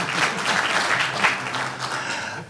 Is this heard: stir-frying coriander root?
no